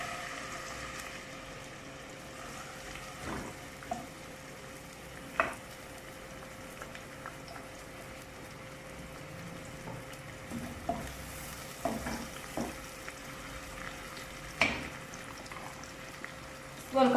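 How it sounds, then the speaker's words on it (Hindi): Onions browning in hot oil in a pan for a desi-style mutton liver fry, giving a steady low sizzle with scattered scrapes and stirring clatters throughout and no talk. "इसके बाद इसमें प्याज को हल्का सा ब्राउन करना है।"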